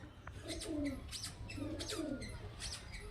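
Pigeons coo in soft, repeated throaty phrases, several overlapping calls close by, with faint chirps and a steady low hum underneath.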